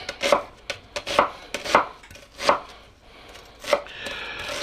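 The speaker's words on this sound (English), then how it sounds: "I'm gonna start dicing my onions" Onions diced with a knife on a board: about six crisp, close chopping strikes in an uneven rhythm, with no talking.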